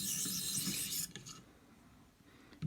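An Ontario Rat 1 knife blade rasps across a ViperSharp 600 grit sharpening stone in a close, gritty stroke that stops abruptly, followed by quiet, light scraping and a small knock at the end.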